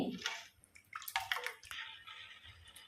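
Water gurgles and pours into a pot in short bursts, a close, splashy filling sound that tapers into a softer trickle.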